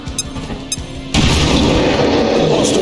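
Frag grenade going off in the video game XCOM: Chimera Squad, a sudden loud booming blast after a quieter stretch of game ambience and faint clicks, followed by a sustained rumbling roar. No speech.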